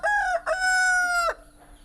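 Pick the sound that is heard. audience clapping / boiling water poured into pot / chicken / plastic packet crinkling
chicken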